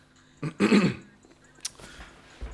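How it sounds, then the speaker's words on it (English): A man clears his throat once with a short, rough rasp during a casual couch interview, followed by a faint murmur and a soft thump. "I had to clear my throat"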